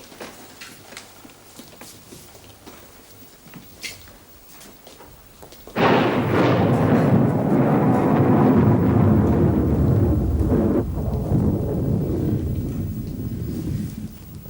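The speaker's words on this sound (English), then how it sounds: "That storm's come out of nowhere." A sudden thunderstorm bursts in: after quiet with a few faint knocks, a loud rush of heavy rain and rumbling thunder starts abruptly and continues as a dense, sustained roar, easing only slightly toward the end.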